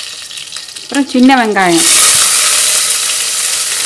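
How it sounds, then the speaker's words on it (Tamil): Mustard seeds splutter in hot oil while a Tamil country chicken gravy is being tempered. A voice speaks briefly, then a loud, steady crackling sizzle fills the rest. "கடுகு நல்லா பொரிய ஆரம்பிச்சிடுச்சு பாருங்கள்."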